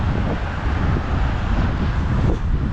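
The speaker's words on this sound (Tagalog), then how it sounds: "Yun, yung hangin mga par." Wind in cold, snowless Canadian weather outdoors, a loud, continuous buffeting roar against the microphone with low rumbling gusts and no clear break.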